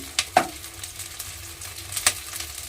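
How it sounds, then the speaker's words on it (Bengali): Ginger and green chilli paste sautéing in a pan, with a low, quiet sizzle broken by a couple of brief stirring knocks. "এবার এই আদা আর কাঁচা লঙ্কা বাটাটা দিয়ে আমি একটু কষিয়ে নেব"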